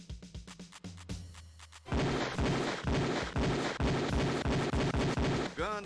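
Beretta pistol fired at a police shooting range in the game Police Quest 4, a few spaced shots at first, then a long loud run of rapid, evenly repeated gunfire dominating the scene.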